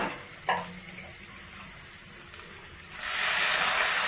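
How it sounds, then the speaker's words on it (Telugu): Water poured into a hot tempering pan of curry leaves, green chillies and onions for semiya upma, a sudden loud hiss and sizzle rising near the end after faint kitchen clatter. "వాటర్ వేసుకుంటున్నాను."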